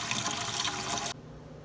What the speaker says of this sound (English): fill up our pot about halfway with water